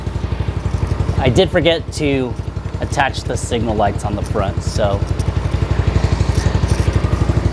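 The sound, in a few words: Venom X18R 200cc motorcycle engine idling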